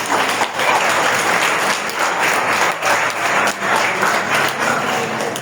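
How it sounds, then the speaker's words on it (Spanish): A church congregation breaks into sustained, dense applause after a sermon, loud and steady with many hands clapping at once and no single voice standing out. "Denle un aplauso al Señor"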